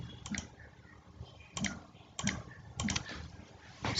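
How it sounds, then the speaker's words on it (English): Keyboard clicks on a Samsung Galaxy S20, four or five short bursts of quick taps spread evenly over a few seconds, faint and close with quiet gaps between. "Turn on keyboard sound"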